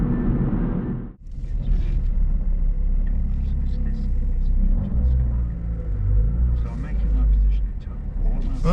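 A standard Vauxhall Corsa B 1.4Si on budget tyres cruises along a motorway at speed, giving a steady loud low road and engine rumble from inside the cabin, briefly dipping once before carrying on evenly.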